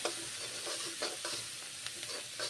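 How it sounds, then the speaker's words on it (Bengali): Onions and coriander leaves being stirred and fried in a pan, a quiet sizzle broken by soft repeated scraping strokes of a spatula. "নেড়ে চেড়ে ভেজে নিচ্ছি"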